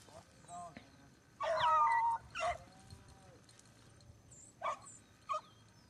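Hunting dogs on a rabbit hunt give a few short, faint barks and yelps, one louder burst and scattered brief yips, heard at a distance in a quiet outdoor setting.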